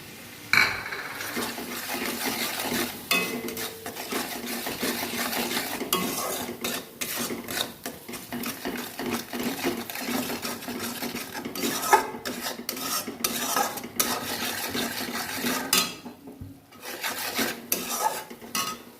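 Spice masala being roasted and stirred in a pan for a prawn curry. Continuous scraping and rubbing of a spatula against metal, with frequent light clinks and a faint sizzle underneath, moderately loud and close.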